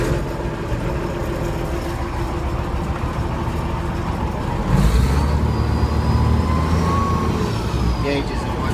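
A Caterpillar 966E wheel loader's diesel engine fires up by push button partway through, a low rumbling idle swelling louder over the steady background drone, with someone talking nearby.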